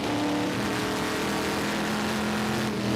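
A 1969 L88 Corvette race car's V8 drones loudly and steadily as it is short-shifted to keep revs and oil temperature down, a sustained close engine roar with no talk.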